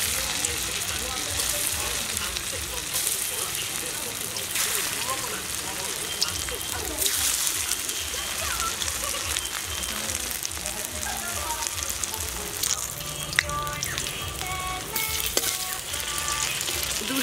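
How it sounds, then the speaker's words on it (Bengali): Taro leaves fry in hot mustard oil with a continuous, crackling sizzle that stays steady throughout, and occasional stirring and spatter add brief louder pops. "এইবারে আমি এটাকে তেলে ভেজে নেব, সর্ষের তেলে ভেজে নেব।"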